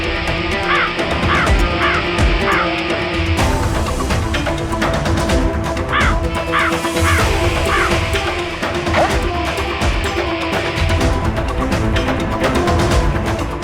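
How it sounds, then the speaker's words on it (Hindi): A crow caws repeatedly in a jungle, its harsh calls sounding in short bursts through the whole stretch over a dense, loud bed of ambient noise. "ये कौवा कहाँ चला गया?"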